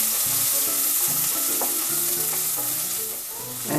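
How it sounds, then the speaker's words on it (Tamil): Steady, close sizzling of shallots frying in 2-3 spoons of hot oil, a constant crackling hiss with faint background music underneath. "2-3 ஸ்பூன் எண்ணெய் விட்டு சின்ன வெங்காயத்தை முதல்ல போட்டு வதக்கிக்கலாம்."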